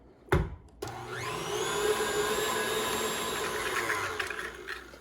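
An electric mixer mixing molasses into cookie dough: a sharp knock, then the motor starts and settles into a steady, close whirring hum with a shifting pitch until it stops near the end.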